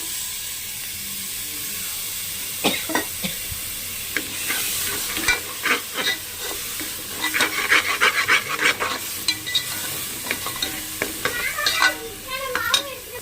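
Ground onion masala paste fries in butter for a chickpea masala gravy, with repeated close scraping stirs and bursts of sizzling that grow busier toward the end; no talking.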